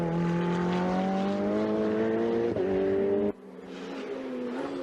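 A turbocharged Ferrari 488 race car accelerates hard through the corners at the Hungaroring, its engine note climbing steadily in pitch and holding loud and close before a sudden cut and a fresh, quieter climb.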